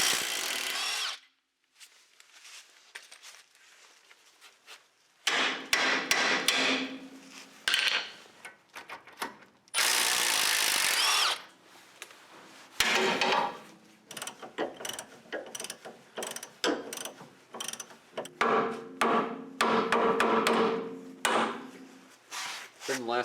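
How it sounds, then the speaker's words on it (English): A 3/4 inch socket, ratchet or power driver, works loose a tie rod end nut on a Jeep Cherokee XJ/TJ steering install: bursts of mechanical whirring and clicking ratchet noise, close and loud, broken by short pauses. "Then we can take a 3/4 inch socket and take this off."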